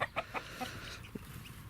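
A small hen clucks in short, close bursts while dust bathing, a few sharp calls at the start and softer scratching and murmuring after.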